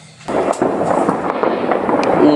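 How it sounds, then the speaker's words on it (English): New Year's Eve fireworks at Big Ben in London burst suddenly after a quiet moment, followed by a continuous loud crackle and rumble of explosions with sharp pops scattered throughout. "Oh, there goes the fireworks."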